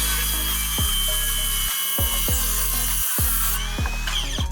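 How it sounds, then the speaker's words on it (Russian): Cordless circular saw cutting a wooden board, a loud continuous high whine broken by repeated rhythmic chugging bursts as the blade bites through the wood, with two brief gaps between passes. "Зацените рез аккумуляторной пилой."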